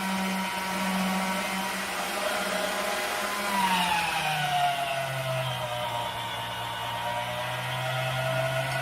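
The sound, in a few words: pasta machine running, rolling homemade pasta dough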